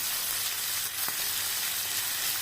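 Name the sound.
semolina pulao frying with turmeric and salt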